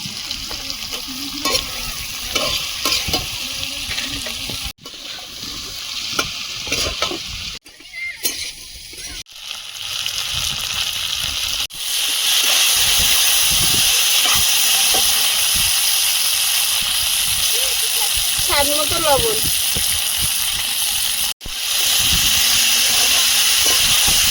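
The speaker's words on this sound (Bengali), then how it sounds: "খুব ভালোভাবে ভেজে নিয়েছি লাল লাল করে" Potato and taro pieces fry with chili and coriander powder in a pan, a steady sizzle and hiss with stirring scrapes that swells louder and fuller partway through, with a few brief breaks.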